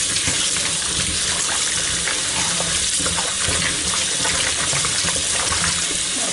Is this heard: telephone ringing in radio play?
no